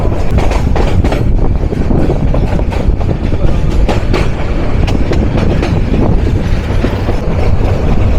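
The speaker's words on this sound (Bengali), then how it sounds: "আমাদের 709 প্রবেশ করে গেল পুরাতন ভৈরব রেল সেতুতে।" The Parabat Express train rumbles loudly up close crossing the old Bhairab rail bridge in Bangladesh, wheels clattering in a steady, rapid rhythm over the rails with a dense metallic roar.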